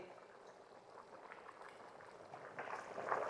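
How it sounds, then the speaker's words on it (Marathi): Chicken pulao with chopped coriander comes to a boil in a pot, soft bubbling and gentle gurgles that grow a little busier and louder toward the end, heard close with no talking. "असे सगळ्या बाजून उकळ यायला पाहिजे"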